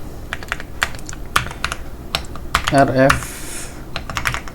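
Keys clatter on a computer keyboard as a Linux terminal command is typed on Lubuntu, with quick irregular close-up taps and a brief burst of faint speech partway through.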